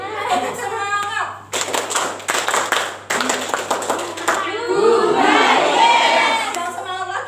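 Classroom group claps a rhythmic spirit cheer (tepuk semangat) during a microteaching session, sharp patterned hand claps in quick bursts followed by shouted voices, loud and close, with a teacher's speech before it.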